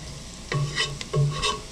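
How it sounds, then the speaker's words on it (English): Celery stirred into onions and garlic frying in a pan, two quick scraping stirs over a gentle sizzle, close and with no talk. "Just drop in that celery real quick. And we're going to give it a nice stir."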